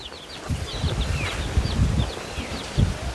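Hen and chicks roaming a farmyard after rain, with several thin high chirps and peeps scattered throughout over a low rumbling, muddy background of movement and distant activity.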